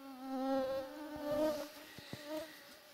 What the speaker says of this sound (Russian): Комары, комары.